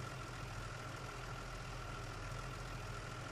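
A fire truck's pump engine idles steadily while water runs from a hydrant through the pump to a hose, a continuous low rumble with no voices.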